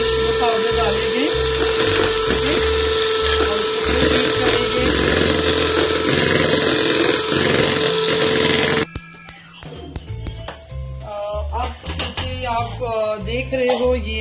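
An electric beater whirs steadily through cheesecake mixture for several seconds, then cuts off, leaving clinks of utensils and someone talking over the clatter.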